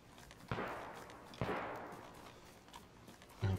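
Two distant gunshots a second apart in the video game DayZ, each with a long fading echo, then a third quieter shot near the end; very faint overall.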